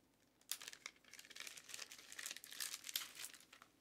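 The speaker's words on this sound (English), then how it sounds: "excuse me, I'm opening up things." Crinkling, rustling plastic and paper are handled up close in a quiet room as a package is torn open, with no talking.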